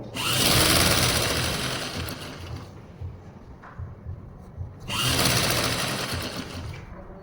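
Sewing machine stitching an Afghani trouser runs in two loud, fast, steady bursts, the first about two seconds and the second starting near the five-second mark, with quieter handling sounds and small clicks in the pause between them.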